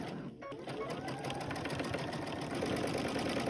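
Close, continuous whirring of a sewing machine stitching along the center seam of a quilted triangle table runner, steady and loud throughout with no talking.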